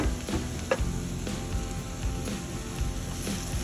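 Onions sizzling in a nonstick coated frying pan, a constant bright crackling hiss broken by a few scraping stirs and clicks, close-up and steady, with no talking.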